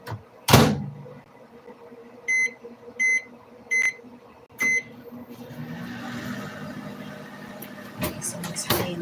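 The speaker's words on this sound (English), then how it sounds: "Put it in the microwave just for 10 seconds." A microwave oven heating a cup of lemon: a door clunk, then four evenly spaced electronic beeps, followed by the steady hum of the oven running with a small clatter near the end.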